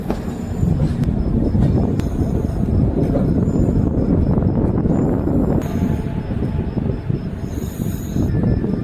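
AP Sampark Kranti Express arriving at Renigunta Junction, heard as a steady loud rumble of rolling wheels and carriages with occasional squeals and clicks, no talking.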